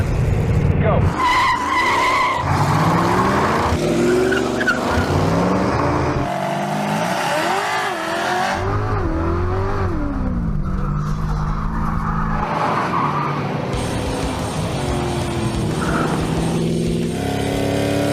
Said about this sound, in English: The results of drag race number 1, Super B in first, El Camino in second, Ranchero in third, Charger next